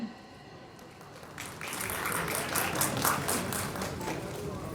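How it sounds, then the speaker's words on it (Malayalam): An audience at an album launch event breaks into applause, building quickly from quiet into sustained clapping from a crowd. "നമുക്ക് എല്ലാവർക്കും ഒരു വലിയ കയ്യടി കൊടുക്കാം."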